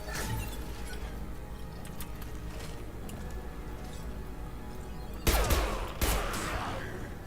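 Sustained gunfire in the Mass Effect 2 video game, a dense rattling fusillade running steadily under a game soundscape, with two louder, closer bursts near the end.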